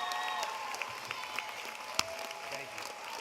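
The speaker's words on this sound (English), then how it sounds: "just a big round of applause for Mrs. Heather McMichael" A graduation audience in an auditorium claps at a moderate distance, a soft, even wash of applause with a few sharper individual claps standing out.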